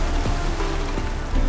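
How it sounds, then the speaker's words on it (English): Steady rain falls and patters in The Witcher 3: Wild Hunt, a dense continuous hiss at a constant level with a faint low rumble beneath and no voices. "Raining again."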